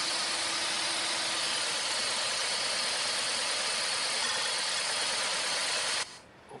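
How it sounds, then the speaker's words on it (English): A car engine with a bad ignition coil runs roughly at idle, giving a steady, hissing drone close to the microphone that cuts off abruptly near the end. "now engine is running even badly"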